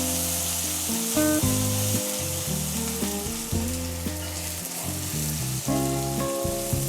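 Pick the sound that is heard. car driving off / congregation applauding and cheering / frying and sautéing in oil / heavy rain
frying and sautéing in oil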